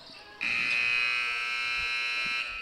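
A basketball game buzzer sounds at the end of the third quarter of a high school holiday tournament game, a loud steady electronic tone lasting about two seconds over faint crowd noise.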